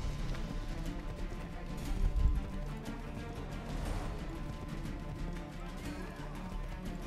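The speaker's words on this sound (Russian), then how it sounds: "Ну ты быстрее скакать можешь, тупая лошадь. Еле-еле она скачет." Horse galloping in the video game Assassin's Creed 3, a steady rhythmic clip-clop of hooves running continuously at moderate loudness amid game ambience, with no talk.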